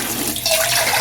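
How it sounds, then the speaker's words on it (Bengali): Tap water runs steadily while small chanda fish are rinsed in a home kitchen, a continuous close, fairly loud rush and splash with no talking. "মাছগুলি এখন ধুয়ে নিব"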